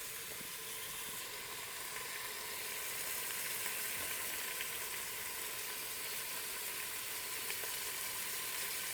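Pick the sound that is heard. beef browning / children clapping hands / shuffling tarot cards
beef browning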